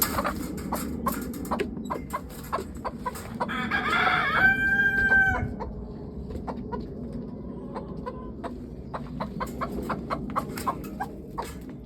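Chickens cluck and a rooster crows on a small farm in the morning, with a broody hen among the flock, making brief repeated clucks throughout and a louder crow in the middle, close by.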